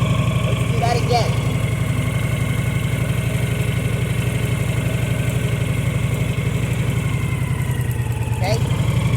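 Motorcycle engine idling steadily while the bike creeps forward on its own in the clutch friction zone, hand off the throttle; a constant low, close rumble throughout with a brief higher mechanical note near the end.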